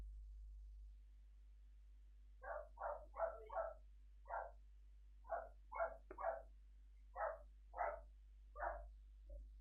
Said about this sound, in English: My dog's very excited for this OP as well, by the sounds of things.